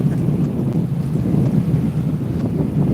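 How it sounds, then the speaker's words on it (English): Strong wind buffets the microphone at Haystack in a continuous loud rumble with no voices. "I told you it was going to be windy here, Blue."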